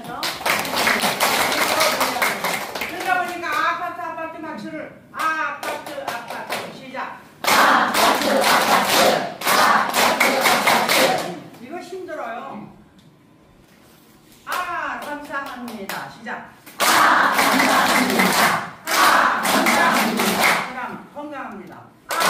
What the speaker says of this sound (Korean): 다 같이 박수 치면서 그러다 보니까 아파트 박수를 아파트